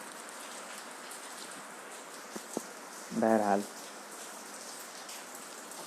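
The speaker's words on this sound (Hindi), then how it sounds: "बारिश हो रही है" Rain falls steadily as a soft, even hiss with a few nearby drop taps, while someone briefly speaks over it.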